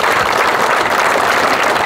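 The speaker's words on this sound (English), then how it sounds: "Let's give them a round of applause." A large crowd applauds at a Dodgers Jackie Robinson Day ceremony, loud continuous clapping that fills the space evenly without pause.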